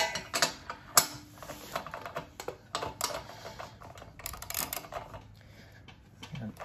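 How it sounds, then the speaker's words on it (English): A socket wrench ratchets on a bolt at the back of a push reel mower during blade sharpening, close, irregular clicking and metallic ticks alone, with no speech. "So I'll put our socket wrench on that and then I'll take our wrench"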